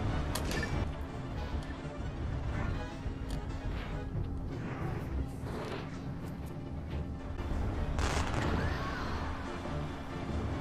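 Gunfire and impacts clatter in the war game Ring of Red, a busy stretch of muffled crashes and sharp hits at moderate distance, steady throughout.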